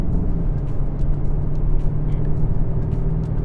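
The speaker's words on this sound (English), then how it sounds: "So we're currently driving sport mode." Steady, moderately loud interior drone of a 2025 Kia K5 GT sedan cruising in sport mode, a continuous low engine and road hum with no distinct shifts or revs.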